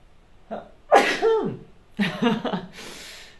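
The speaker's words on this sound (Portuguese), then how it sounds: "Espera aí que eu vou espirrar." A single close sneeze with a sharp build-up and burst, followed by a brief exhale or sniff.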